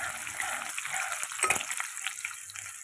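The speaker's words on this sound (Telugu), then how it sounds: "నేను ఇప్పుడు మళ్ళీ తిరగమాతలో వేస్తున్నాను. సో దాంతోపాటు ఎండుమిరపకాయలు కూడా వేస్తున్నాను" Crushed garlic and dried red chilies crackle in hot tempering oil with a bright, close sizzle that flares briefly mid-way, then settles to a steadier fizz.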